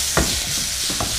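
Tomatoes fry in a pan under a steady sizzle while a spoon stirs them, with a couple of short scraping strokes standing out near the start and the end.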